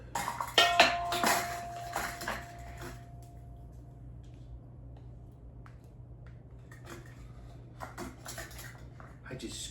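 Spoon scooping peanut butter into a measuring cup in a home kitchen: a few bright metallic clinks and scrapes at the start, then soft, sticky scooping noises, close and quiet, with a voice faintly present.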